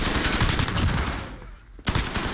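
A gun is hip-fired in a shooter game's gunfight tournament, loosing loud, rapid automatic bursts up close that break off briefly and then start again.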